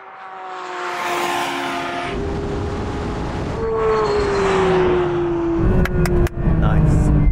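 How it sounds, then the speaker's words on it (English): Porsche 911 GT3 accelerating hard in a drag race against a BMW M4 CSL, engine note climbing steadily through the gears, loud and close, with sharp clicks near the end and voices speaking. "You can always rely on a Porsche for pull away."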